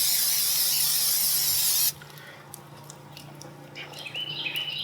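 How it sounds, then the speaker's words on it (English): Non-stick cooking spray sprayed onto a warm outdoor griddle: a loud, steady hiss for about two seconds that stops abruptly, leaving quiet background with faint chirps. "I'm gonna hit this with a non-stick spray"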